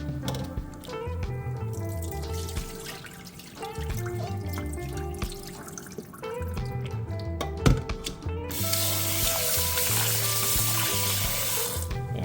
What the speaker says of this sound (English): we're gonna rinse this off like 2 to 3 times